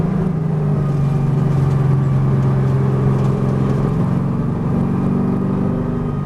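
A V8 race car engine drones loud and steady from inside the car as it brakes and downshifts, a continuous low rumble with no clear rev spikes.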